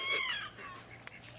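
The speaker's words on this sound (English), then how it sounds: "we raise laying chickens in here as well" Laying chickens cluck and call inside a homestead barnyard enclosure, faint and somewhat distant, with a few soft clucks, a brief higher call and small knocks near the end.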